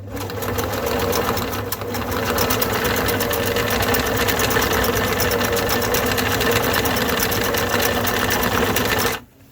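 A Singer 478 sewing machine stitches zigzags with a loud, continuous mechanical whir and rapid needle knock, running close and steady for several seconds before stopping abruptly.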